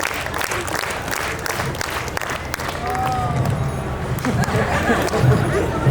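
Street crowd watching a Japanese juggler performing in Melbourne claps steadily in a dense, continuous wash of applause with background chatter throughout.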